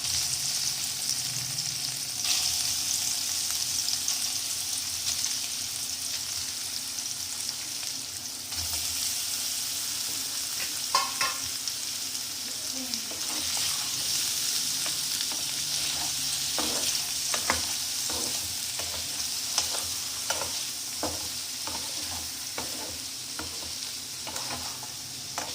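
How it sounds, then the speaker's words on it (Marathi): Sliced paneer shallow frying in a pan of oil, giving a steady sizzle with intermittent stirring clicks and scrapes, moderately close and without any talking. "आता जे काप केलेले पनीर होते ते आपण याच्यामध्ये थोडं शॅलो फ्राय करून घेऊया"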